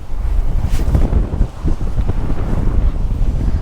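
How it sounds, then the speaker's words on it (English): Heavy rain pours down with strong wind at the River Humber. Gusty wind buffets the microphone in loud, rumbling bursts over a constant hiss of falling water, and no voices are heard. "unfortunately it's starting to pour down with rain"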